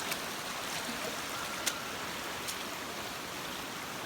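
Rain falls steadily outdoors by a creek with water everywhere, a constant soft hiss at low level with a couple of faint drip clicks and no talking.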